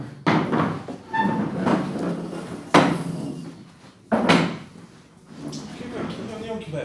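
Chairs being moved and set in rows in a meeting room, giving several sharp knocks and scrapes spread across the clip with people talking throughout.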